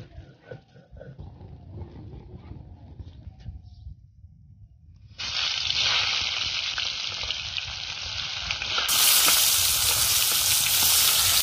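Bitter gourd frying in mustard oil in a pan, starting as a soft, quiet sizzle, then breaking into a loud, bright, hissing crackle that grows even harsher toward the end.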